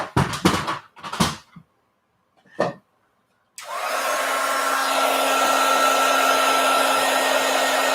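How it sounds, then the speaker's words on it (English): A heat gun blows steadily across a painted canvas, a loud continuous whoosh with a faint whine that starts abruptly after a few brief clicks and knocks and then holds unchanged. "I'm going to hit it with a heat gun real quick"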